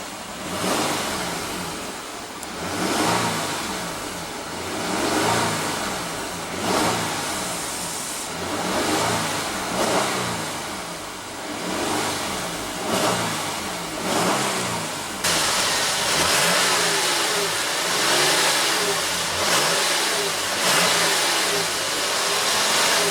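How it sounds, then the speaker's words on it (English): A 2014 Dodge Durango's 3.6 L V6 revs repeatedly in close, loud bursts that rise and fall in a steady rhythm, then holds a higher sustained drone toward the end. "let's go ahead and rev this baby up. Let's go ahead and hear how that V6 sounds."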